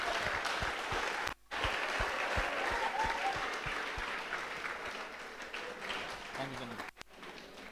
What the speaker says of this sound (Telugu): గట్టిగా చప్పట్లతో ఆయనకి స్వాగతం పలుకుదాం.